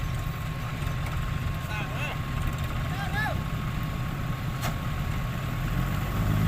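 A farm tractor engine idles with a steady low rumble throughout, with faint squeaks and a brief click over it, no talking.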